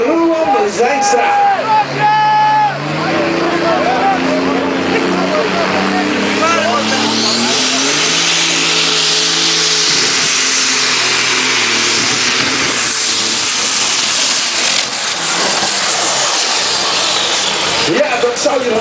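A heavy John Deere pulling tractor's engine roars loudly and steadily as it powers past at a 2012 tractor pulling event in Bakel, with an announcer talking over it.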